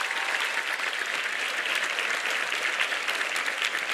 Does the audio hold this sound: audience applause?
yes